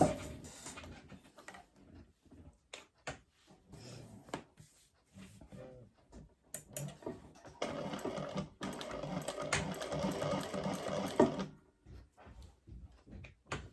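A sewing machine stitches a bag with a stabiliser insert tucked in. Start-stop mechanical whirring and clicks build into a loud continuous run in the middle, then break back into short bursts.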